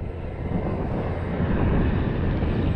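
An E-flite Valiant RC airplane flies a knife-edge pass, its electric motor giving a steady, fairly loud whine that swells slightly toward the end, with no talk.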